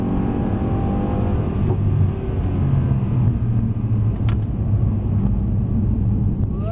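A Mercedes-Benz car engine on the track at Mercedes Benz World, a loud steady low rumble with rising engine tones as it accelerates.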